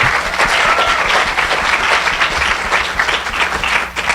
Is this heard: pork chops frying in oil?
no